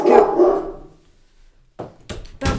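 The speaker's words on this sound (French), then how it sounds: "le chien avait envie de parler" A dog barks close and loud in two short sharp bursts after a brief quiet, following a moment of indoor talk.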